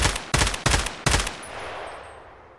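A gun in Escape From Tarkov fires on full auto in a short burst of four sharp, loud shots in quick succession, followed by a fading echoing tail.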